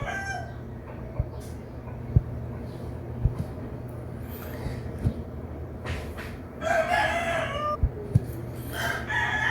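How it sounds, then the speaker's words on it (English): A rooster crows in the background, with a few calls late on over a steady low hum and scattered soft knocks, with no speech. "I apologize for the sound of the rooster."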